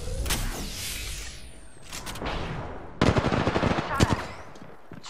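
Rapid automatic gunfire bursts from the Apex Legends video game, loud and close, with a dense fusillade of shots mid-clip following quieter mechanical clicks and effects.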